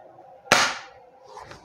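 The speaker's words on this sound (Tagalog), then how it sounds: "Testing. Firing." Single sharp shot from a Kjworks M700 takedown bolt-action airsoft rifle, a close crisp crack that fades quickly, followed by faint handling noise.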